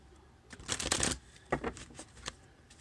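Cards riffle and flutter close by in a couple of quick bursts, soft and crisp, with no talking.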